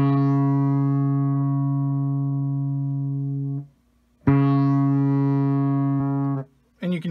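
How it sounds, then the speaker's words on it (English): Sustained harmonic synth note passing through a Chase Bliss Audio pedal whose filter opens and resonance rises, driven by an Empress ZOIA over CV; two long loud held tones with a short gap, then a brief third burst. "And you can hear the resonance sort of rise."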